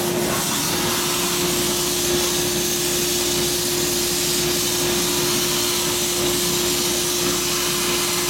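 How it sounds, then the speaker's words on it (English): An air compressor runs steadily for a sand bead blaster in a shop, a loud continuous mechanical drone with a constant hum and broadband hiss throughout, no voices. "The compressor just came on."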